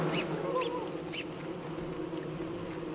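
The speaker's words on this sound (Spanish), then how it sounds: "Abejas." Bees buzzing in the video game Don't Starve, a steady low insect drone under a game-world ambience, with a few short higher chirps near the start.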